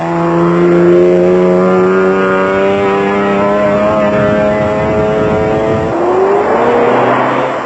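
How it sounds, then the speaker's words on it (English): A Land Cruiser's six-cylinder engine roars loud and close while racing off road in the 1996 Roof of Africa rally, revving steadily, then dipping and climbing again as it shifts. "the Land Cruiser was firing raucously on all 6 cylinders."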